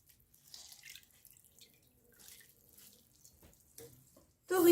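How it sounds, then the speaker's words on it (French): Water dripping and trickling from cooked bamboo shoots being pressed by hand, soft scattered splashes with quiet gaps, ending in a louder burst of running water. "pressez le bambou pour enlever l'eau de cuisson."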